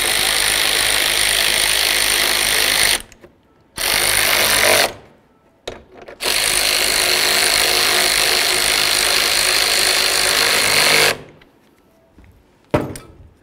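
A power tool whirs in long loud bursts while tightening fasteners on a 2007-14 Ford Edge radiator, with short quiet gaps between runs and a sharp click near the end.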